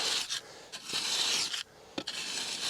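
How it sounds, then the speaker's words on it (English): Sand is scraped and pushed away from the base of a raised garden bed, giving soft gritty rubbing strokes with short pauses between them, close but quiet. "Just moving the sand away."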